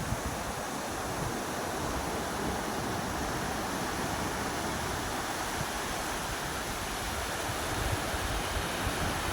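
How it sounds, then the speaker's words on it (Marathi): Constant roar of surf from waves breaking along Karwar Beach, Karnataka, a broad steady wash of water noise heard alone without voices. "संध्याकाळी जास्त लाटा लाटा वगैरे येतात"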